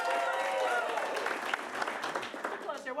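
Crowd applause at an improv comedy show as the audience claps to vote for a scene, steady loud clapping with cheering voices mixed in, thinning slightly toward the end.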